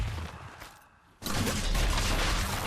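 Gunfire in the video game Fortnite Zero Build, a brief lull followed by a loud dense volley of rapid shots continuing to the end.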